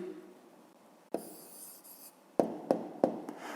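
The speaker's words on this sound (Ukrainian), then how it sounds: "Давайте я тут напишу е, відповідь." A pen writes out the answer to a fifth-grade maths exercise by hand. One short scratchy stroke comes first, then a quick run of light taps and strokes, all close and quiet.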